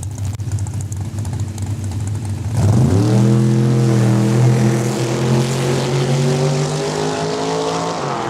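Drag race cars, including a white 1976 Duster, launch at Saskatchewan International Raceway, with loud, close engine roar surging sharply upward and holding a strong rising howl as they pull away down the strip.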